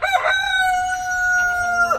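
A rooster crows once, a clear sustained cry close by, with faint low background noise.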